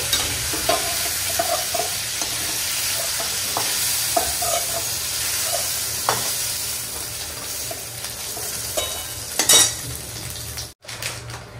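Cumin, a dried chilli and bay leaf sizzle steadily in hot oil, alongside occasional clinks of a utensil stirring against the pan and one louder scrape near the end.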